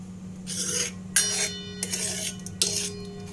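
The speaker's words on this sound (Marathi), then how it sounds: "चमच्याने मिक्स करून घेऊया सगळं।" A metal spoon scrapes and clinks against a pot while mixing moong dal with added water, heard as three short bursts of stirring over a steady low kitchen hum.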